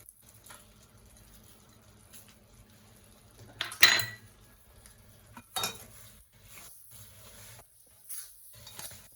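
A spoon stirs a nut mixture of chopped almonds, cashews and pistachios in a pan while making adadiya pak, a Gujarati winter sweet: soft scraping and stirring, with two louder clanks of utensil against the pan and faint sizzling beneath.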